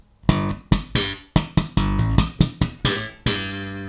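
A slap bass riff with sharp thumbed notes and quick muted ghost-note clicks, a run of four ghost notes leading into a bright popped string, punchy and close, with no voices.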